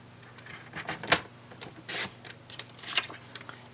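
Paper trimmer slicing through a sheet of autumn-themed designer series paper for a handmade card, giving a few short scraping and clicking strokes with one sharp snap, close by and moderately quiet.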